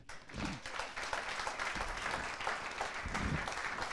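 A church congregation breaks into sustained applause, dense clapping that swells and holds for several seconds with a few faint cheers mixed in.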